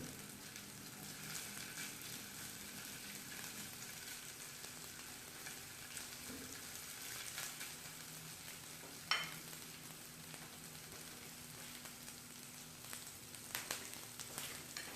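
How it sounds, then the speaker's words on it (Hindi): Onions or aromatics gently sautéing in a pan before chicken goes in, a steady soft sizzle running evenly throughout at moderate level, with one brief sharp clink near the middle. "इसको सिर्फ हमने इसका कच्चापन दूर करना है, इसको सौटे करना है, इसको ब्राउन नहीं करना"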